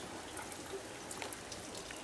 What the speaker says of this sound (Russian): Дождь? Дождь, дождь. Уже вторую неделю идут дожди.